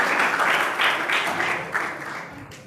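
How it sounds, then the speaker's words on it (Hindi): A crowd at a school general knowledge competition on Constitution Day claps loudly and steadily to welcome the second-place prize winners, the applause fading out after a few seconds. "जोरदार ताली से स्वागत करें।"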